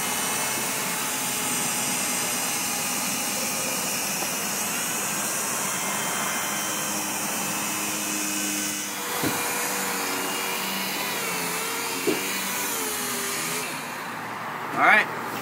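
A machine polisher whirs steadily on a 2002 Honda Civic headlight lens, a constant high motor whine that shifts in pitch slightly, with a few brief bumps and a short pause near the end.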